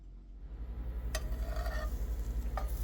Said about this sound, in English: we're frying it up in some olive oil until it's golden brown on both sides